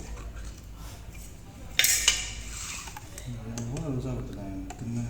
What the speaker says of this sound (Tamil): இந்த மாதிரி ஒரு குச்சி மாதிரி இல்லை ஒரு கம்பி மாதிரி எடுத்து நல்லா கலக்கிக்கோங்க